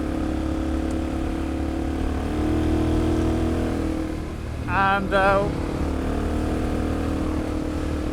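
A Suzuki DRZ motorcycle fitted with a new exhaust pipe runs loud and steady at close range, its engine a constant rumbling drone, while a voice talks briefly over it.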